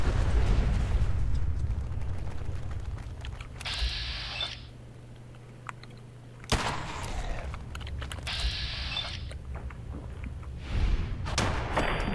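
Grenade blasts in the video game Fallout 4: two heavy thuds a few seconds apart, each followed by a rumbling tail over a constant low background hum.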